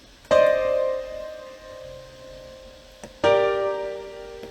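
Two loud piano chords from a remix drop ring out about three seconds apart, each struck sharply and left to sustain and fade, with no voices.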